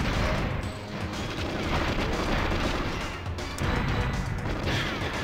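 Rapid, dense gunfire and crashing impacts from the video game GoldenEye on Nintendo Switch OLED, loud and continuous throughout with no pauses.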